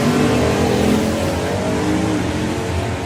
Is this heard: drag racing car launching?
yes